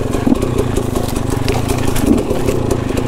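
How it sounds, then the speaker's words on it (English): A KTM 300 motorcycle engine lugs at low revs in second gear, a loud, close, uneven chugging pulse that holds for about three seconds. "Still in a second gear, and I'm enjoying this lugging ability of 300."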